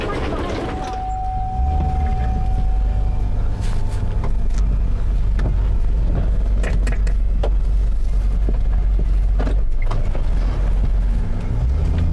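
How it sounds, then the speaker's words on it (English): A truck engine runs steadily as the truck is moved near the Gulf Coast after a storm surge, with a constant low rumble and heavy wind noise on the microphone throughout. "I got to go move my trucks"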